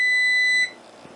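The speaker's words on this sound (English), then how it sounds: "I'm going to have to turn off the timer here." A kitchen timer beeps while green beans cook on the stove, giving a steady high electronic tone that stops abruptly partway through, leaving faint room quiet.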